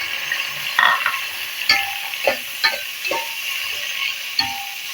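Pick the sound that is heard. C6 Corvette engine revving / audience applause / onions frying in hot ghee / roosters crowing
onions frying in hot ghee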